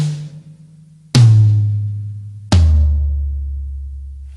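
Three drum toms struck one after another, high, mid and low, each a single resonant hit that rings out, the later strikes deeper and louder with long booming decays; no talking.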